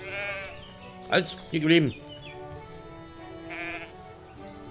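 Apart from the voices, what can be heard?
sheep bleating in the video game Everdream Valley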